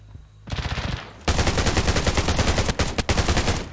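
A short burst of rapid gunfire, a brief pause, then a long, loud stream of automatic fire from the video game Undawn, with a couple of quick breaks.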